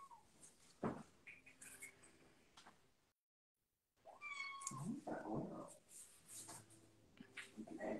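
A cat meows indoors, several bright wavering calls mixed with clatter and a brief silent gap, fairly close and moderately loud.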